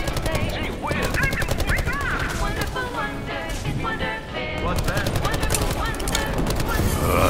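Rapid automatic gunfire in the video game Call of Duty: Black Ops 4 rattles in dense, continuous bursts, loud and close, mixed with other game sounds and faint tonal effects.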